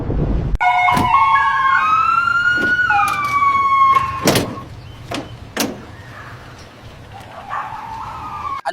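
An ambulance siren wails in a video game while the ambulance is driven, a rising and falling tone in the first few seconds broken by sharp knocks and thuds, then fading to quieter scattered noises.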